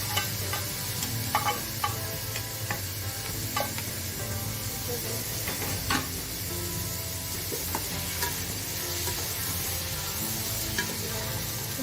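Carrots and mixed vegetables sizzle steadily while being stir-fried in a pan for chicken vegetable spaghetti, with occasional utensil scrapes and taps over the constant frying hiss.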